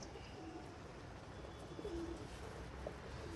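Pigeons coo softly while feeding, a few low rounded calls rising briefly over a steady background hiss, moderately close and fairly faint.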